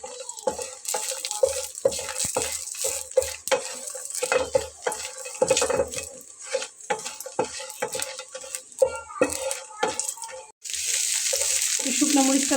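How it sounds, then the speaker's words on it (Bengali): Dried chillies fry in a little hot oil in a frying pan. Irregular crackles and pops with sharp clicks of stirring give way to a steadier, louder sizzle in the last couple of seconds. "এটাকে এখন শুকনো মরিচটা আগে একটু ভেজে নেব"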